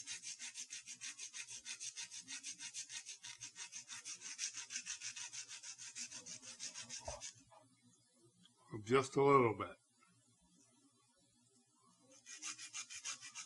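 Steady rhythmic rasping strokes of light sanding on a small bamboo skewer handle, pausing briefly while someone speaks, then resuming close by.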